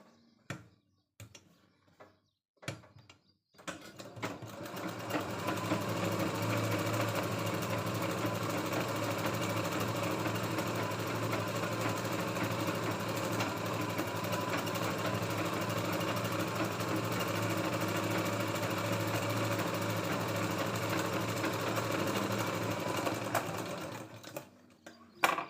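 A sewing machine runs steadily for about twenty seconds, stitching the neck and lower parts of a katori blouse, after a few short bursts at the start and before it stops near the end.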